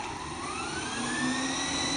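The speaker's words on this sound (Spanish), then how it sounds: "Vamos a armar motores nuevamente para que lo miren." Small 4DRC F3 GPS quadcopter drone motors arming and spinning up, a steady high-pitched whine with rising tones, close and continuous.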